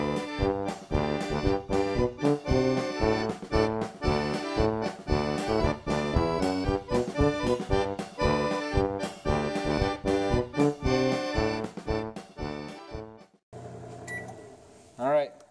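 A microwave oven hums steadily, loud and close, with a cooking run ending in beeps near the end while people talk over it.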